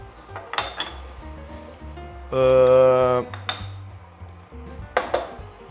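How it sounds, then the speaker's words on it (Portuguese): Tapioca and coalho cheese being mixed in a bowl, with utensil clinks and scraping against the dish, a sustained ringing stretch in the middle and scattered knocks, heard up close. "A gente vai misturar aqui as 250 gramas de queijo coalho."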